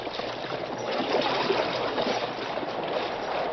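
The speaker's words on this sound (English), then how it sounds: "The mighty paddle wheels whipped the water into white foam." Steamboat paddle wheels churning river water as a radio drama effect, a continuous splashing wash of foaming water, steady and moderately loud with no voices, slightly muffled in tone.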